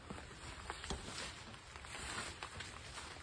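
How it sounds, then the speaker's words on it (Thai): Rain falls over a mixed farm garden in a steady, faint, even patter with no voices, a soft wash of drops throughout. "ฝนตกกับเขาสวนด้วยค่ะ"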